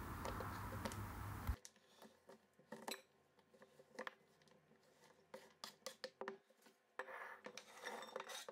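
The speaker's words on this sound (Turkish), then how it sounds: "Şöyle birer parça hepsinden doğrayarak geniş bir kabın içine alıyorum." A sharp knife chops chocolate on a board, irregular taps and cuts in quick bursts, close and fairly quiet, after a short burst of louder noise.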